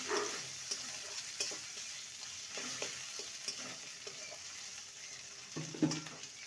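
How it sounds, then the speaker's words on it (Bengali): Chopped tomato fries in a pan while being stirred, giving a steady soft sizzle broken by repeated faint scraping strokes of the spoon, quiet and close with no talking. "টমেটোটাকে ভালো করে নেড়ে নেব।"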